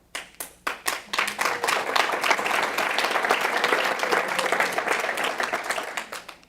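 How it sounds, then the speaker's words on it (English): Audience at a city State of the City address breaks into applause, a few scattered claps swelling quickly into steady, full clapping from a large crowd that holds level before tapering slightly. "I think that clapping started with Jennifer."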